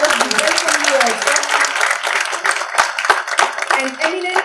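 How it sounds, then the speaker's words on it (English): Audience applause in a university festival talk-show hall welcoming a guest on stage, a dense steady wash of clapping throughout, with voices mixed in. "So with a huge round of applause, we welcome you also."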